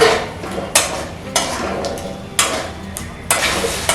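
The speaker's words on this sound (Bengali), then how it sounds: "এখন সমস্ত উপকরণগুলোকে একসঙ্গে ভালো করে মিশিয়ে নিতে হবে।" Chana dal muitha ingredients are mixed together in a bowl, with rhythmic scraping and knocking strokes recurring about every second, close and clear, with no talk.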